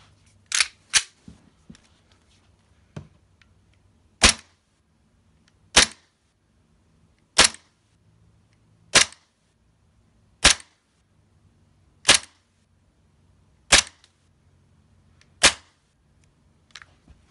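A WeTech Glock G17 green gas airsoft pistol fires a string of sharp, close shots, about ten crisp pops spaced a second or two apart against an otherwise quiet background.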